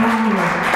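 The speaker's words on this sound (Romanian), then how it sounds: "Aplauze" Studio audience applause on a Romanian television comedy show, a dense burst of clapping heard briefly and loudly, with a voice sounding over it.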